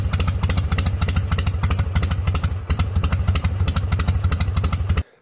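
A Harley-Davidson motorcycle engine runs close and loud with a rapid, uneven pulsing throb, dips briefly midway, then cuts off abruptly after about five seconds.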